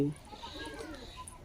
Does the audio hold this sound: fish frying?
no